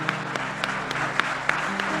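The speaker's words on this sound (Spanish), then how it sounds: "¿Cuánto aplauden al Señor?" A church congregation claps for the Lord during a Yom Kippur sermon in a quick, uneven rhythm, the sharp hand claps close and fairly loud, with a faint hum of voices underneath.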